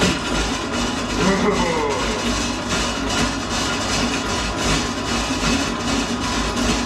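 A GASTROMIX B20C planetary mixer runs at its highest third speed, giving a steady, close churning and rubbing rumble that continues without pause, with a voice talking over it.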